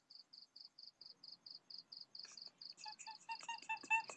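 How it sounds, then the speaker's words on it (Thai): A cricket chirps in a steady, evenly spaced rhythm of short, high pulses. Partway through, more insect chirps layer in and the sound grows busier. The chirping is quiet but clear, with no voices. "มันจิ้งหรีดมันร้องเป็นจังหวะ"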